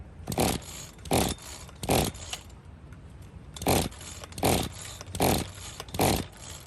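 A weed eater with the choke on and the throttle held wide open is pull-started again and again, giving seven sharp rasping cord pulls at a steady rhythm, close by, with no catch or running engine between them.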